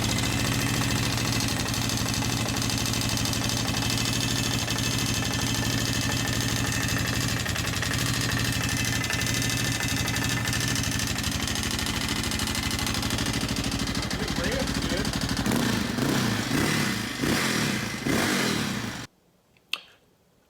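A Yamaha Raptor 660 ATV engine runs with an abnormal mechanical noise that persists even after valve adjustment, idling in a close, steady rattling drone for most of the clip, then dropping abruptly to near silence with a faint knock at the end.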